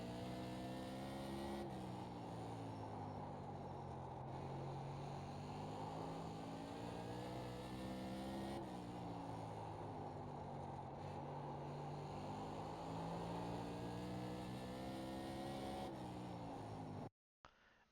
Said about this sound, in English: And there you have a quick lap around South Boston in a Tour Modified.